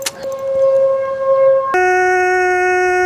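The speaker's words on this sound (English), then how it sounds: "Ohio turns all their tornado sirens on as a test" A loud, sustained Ohio tornado siren test wails with steady tones, shifting abruptly to a higher, harsher pitch partway through and continuing alone without any voices.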